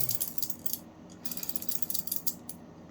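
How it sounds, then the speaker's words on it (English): Sturmey Archer S5 five-speed internal gear hub spinning freely, a steady close mechanical whir with light ratcheting clicks of the pawls, fading briefly mid-way before picking up again. "So it should spin very freely, like so."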